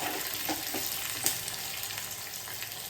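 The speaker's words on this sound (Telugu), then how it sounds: "కొద్దిగా ఆనియన్స్, కొంచెం చిన్నుల్లిపాయలు అనేది వేసేసుకోవాలి మనము. అవి కూడా వేసేసుకొని బాగా ఫ్రై చేసుకోవాలి" Onions and small shallots fry in hot tempering oil for gongura pappu, a steady close sizzle with occasional soft stirring scrapes and no talk.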